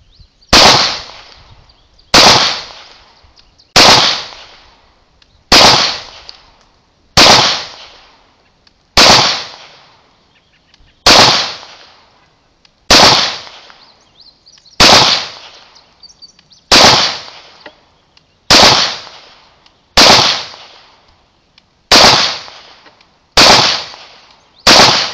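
A Smith & Wesson SD9VE pistol fires hollow point rounds outdoors, about sixteen loud sharp shots spaced roughly one to two seconds apart, each followed by a short decaying echo.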